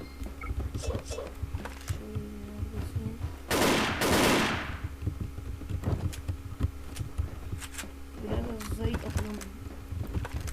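Gunfire from the online shooter game Wolfteam: scattered sharp shots and short bursts, with one loud blast near the middle, heard under a player talking throughout.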